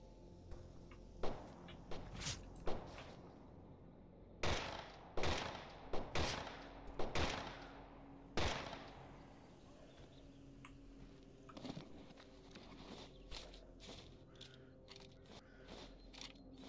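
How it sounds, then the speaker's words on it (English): Gunfire in STALKER Anomaly, a run of sharp single shots and short clustered bursts at moderate distance, some spaced seconds apart, over a low ambient background with no talk. "Someone is still shooting at us."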